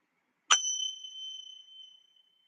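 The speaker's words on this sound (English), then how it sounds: "I used to do that before I had my Tibetan bells, but I'm going to use the bells for that." A single struck Tibetan bell rings out clearly, its bright metallic tone sustaining and slowly fading over about two seconds in an otherwise quiet space.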